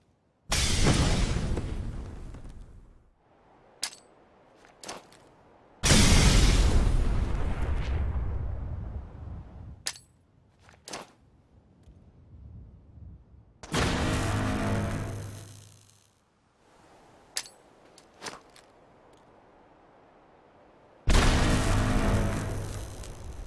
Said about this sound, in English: mod changes the sounds that all of the explosions in the game make